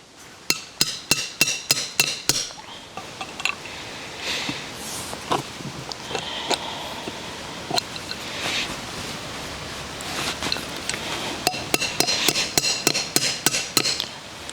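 A crescent wrench used as a hammer strikes metal during a gate installation, sharp close knocks in fast rhythmic bursts separated by quieter rustling and handling noises.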